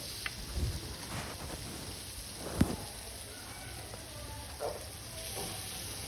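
Fish frying in a pan hisses in a steady, rain-like sizzle, with a few louder pops and crackles breaking through, nearby and without speech.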